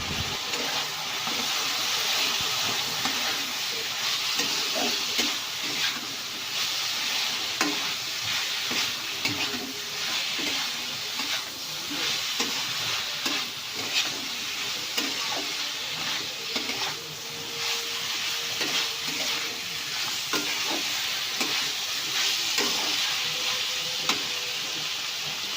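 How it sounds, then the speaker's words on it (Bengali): Fried potatoes and yardlong beans being stirred together in a pan for a dry spicy curry give a continuous, moderately faint frying sizzle, broken by soft irregular scrapes and knocks of the spatula. "এবার এর মধ্যে ভেজে রাখা আলু আর বটবটিটা দিয়ে দিলাম, দিয়ে আবারও ভালো করে নাড়াচাড়া করে মিশিয়ে নেব।"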